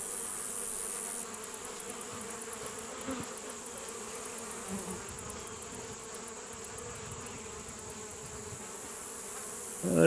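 Honey bees buzz steadily throughout a beehive inspection, a dense insect drone that stays close and fairly loud, with occasional handling noises and no speech.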